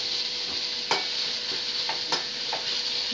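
Shallots, garlic and ginger-garlic paste sizzling in a pan for a prawn dish, a steady frying hiss broken by a few soft scrapes of a stirring spoon, close and alone.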